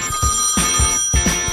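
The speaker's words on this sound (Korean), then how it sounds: "오늘은 어떤 친구가 전화를 줬을지 함께 받아볼까요?" A telephone rings with bright repeated trills in two close bursts, loud and near, with no talk over it.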